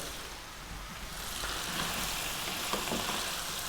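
Big chunky carrots and potatoes dropped into a lamb stew pot and frying, giving a broad hissing sizzle that swells after the first second and stays steady, close and alone.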